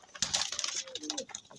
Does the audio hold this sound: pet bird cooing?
yes